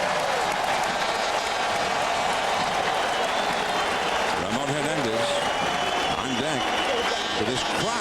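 Crowd noise at an Oakland Athletics home playoff game against the Minnesota Twins, a broad sustained roar of the stadium crowd under a commentator's steady talk, swelling and rising mid-way.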